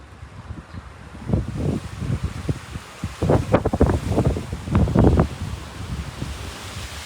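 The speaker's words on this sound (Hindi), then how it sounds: "हालांकि तेज़ हवा चल रही है आज।" Strong wind blows outdoors near a temple, rushing and buffeting the microphone in repeated loud gusts.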